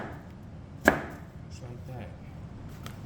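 Onions being chopped on a board: a single sharp knife knock against the board, with a few faint softer cuts after it and a brief spoken remark.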